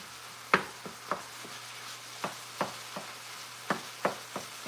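Meat browning in a pan for spaghetti carbonara, a soft steady sizzle broken by several sharp clacks of stirring, close and moderately quiet, with no talking.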